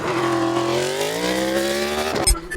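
High-revving Suzuki GSX-RR racing motorcycle engines whine and climb in pitch, ending in a sharp, loud rush as they roar past a few feet away.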